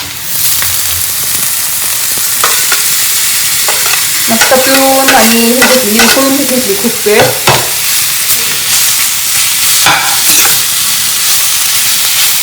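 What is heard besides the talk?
stirring and frying bafli wild greens with onion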